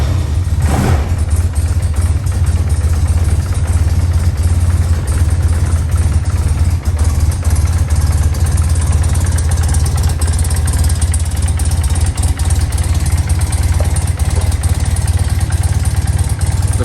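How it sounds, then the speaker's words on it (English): A 1995 BMW R100GS Paris Dakar boxer-twin motorcycle, freshly serviced, cold-starting on half choke and then idling steadily, a loud, continuous low engine rumble with no talk over it. "so we're going to try half choke to start."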